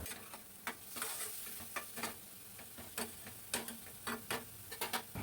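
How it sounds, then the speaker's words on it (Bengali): A spatula stirs salted ash gourd curry in a pan, giving irregular close scrapes and clicks over a quiet background sizzle. "দিয়ে আবারও নাড়াবো।"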